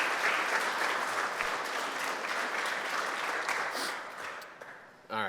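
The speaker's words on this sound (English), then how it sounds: "let's have another round of applause for today's guests" Steady applause from an alumni panel audience greets the guests, a full, even wash of many hands clapping that thins slightly near the end before a short voice cuts in.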